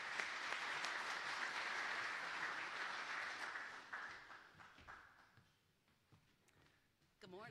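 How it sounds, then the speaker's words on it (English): Loud audience applause at a conference session on federal support for smart regions, steady for about five seconds and then thinning out into scattered claps as it fades, with a fresh burst at the very end. "Please give her a round of applause and welcome."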